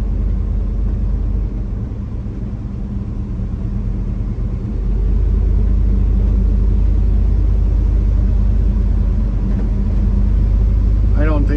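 An LS-swapped Ford F150 pickup drives along with a loud, steady engine rumble from inside the cab, the tone dropping and settling around a gear change midway.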